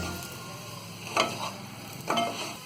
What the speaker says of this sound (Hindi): अब इसे हम एक बार और चला देंगे।